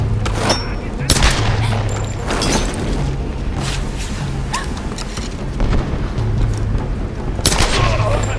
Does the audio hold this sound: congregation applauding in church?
no